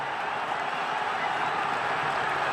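Home football crowd at a League of Ireland match roaring after a goal, a dense continuous wall of cheering and clapping from a large stand, steady and sustained for the whole moment.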